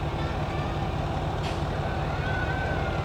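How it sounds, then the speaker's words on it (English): South Plattsburgh Volunteer Fire Department's aerial ladder truck, number 328, rolls past in a small-town parade, a steady low diesel rumble close by with street noise around it. "South Plattsburgh is here with a ladder truck."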